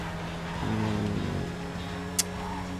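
A Rat Loader pickup truck in GTA Online drives along with a steady, loud engine drone that shifts pitch partway through, and a single sharp click near the end.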